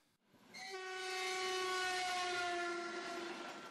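A train passes close by, its horn blaring one long, loud, steady blast that swells in and holds for several seconds over the rumble of the rails.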